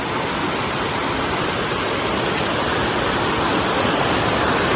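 A waterfall in the monsoon season, along a road trip from Kolkata to Siliguri, roars close by in a dense, loud, unbroken rush of water that fills the whole scene.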